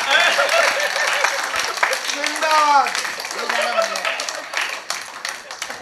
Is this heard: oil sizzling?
no